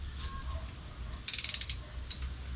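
A ratchet with a 10mm socket clicks quickly in a short burst while tightening a bolt during a Weber carburetor swap on a Ford Festiva, close but fairly quiet, followed by a brief second click.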